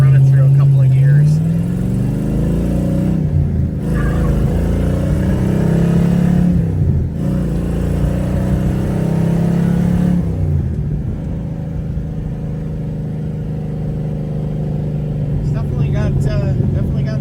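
A 1970 Buick GS455 with its 455 V8 engine pulls hard through a couple of gears, the loud engine note climbing and dropping at each shift, heard from inside the car with continuous rumble.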